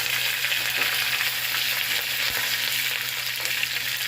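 Dried red chillies and curry leaves fry in hot oil with a steady, close, loud sizzle, and a brief stir sounds near the middle.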